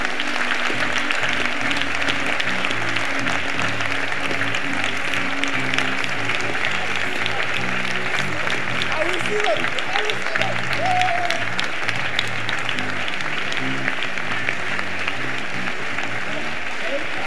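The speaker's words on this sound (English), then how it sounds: "Clap your hands and you pray." Audience clapping hands together during a church prayer session, a dense, steady wash of applause filling the whole stretch without pause.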